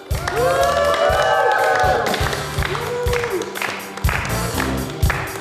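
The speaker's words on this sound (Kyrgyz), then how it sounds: "Нурлан мырза менен Аиданы кол чабуулар менен тосуп алалы" A studio audience on a Kyrgyz TV show applauds and cheers to welcome Nurlan and Aida, steady clapping under music with a presenter's voice over it, swelling again near the end.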